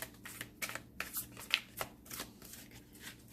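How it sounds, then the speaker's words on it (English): Tarot card deck being shuffled by hand, a quick series of soft papery riffles and flicks in an irregular rhythm, close and quiet, with no talking. "it's not difficult to shuffle at all, which I appreciate"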